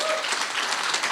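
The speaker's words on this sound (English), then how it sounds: "the applause is for all of you" A brief burst of crowd applause at a chairman's meeting, a dense steady wash of many hands clapping, with a short tone near the start.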